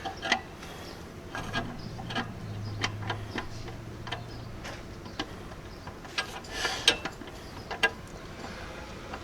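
Small, faint mechanical clicks from a drum brake adjuster being turned on a Jeep XJ fitted with a Power Stop coated drum brake kit, scattered and irregular over a low background hum.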